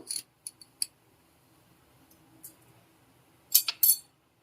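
Metal spatula scraping and clinking against a pan while stirring vegetable chow mein, a few sharp close clinks spaced apart with quiet gaps between, no talking.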